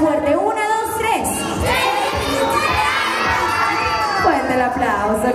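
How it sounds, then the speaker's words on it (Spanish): A group of children shouts and cheers loudly together at a birthday party show, with excited voices rising and falling and some clapping mixed in, close by. "El aplauso, qué bonito."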